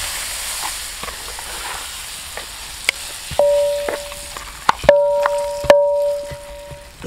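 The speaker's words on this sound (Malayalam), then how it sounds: "എന്നിട്ട് ഇത് നൈസായിട്ട് ഒന്ന് മിക്സ് ചെയ്യുക." Masala being mixed into boiled young jackfruit for a curry, heard as soft, irregular scraping and knocking of a spoon in a pot against a low hiss, with a few sharp clicks and faint tonal whines, no talk.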